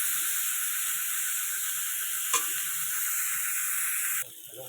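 Steady, loud sizzling of cauliflower frying in hot oil, a constant hiss with one brief clatter midway before it quiets near the end.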